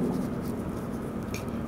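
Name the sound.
writing on a board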